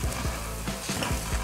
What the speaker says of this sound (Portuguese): A gente vai mexendo